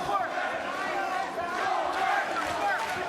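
A large boxing arena crowd roars and chants throughout a British title fight between Carl Johanneson and Michael Gomez, a dense sustained cheer swelling in waves, with a commentator's voice running over it.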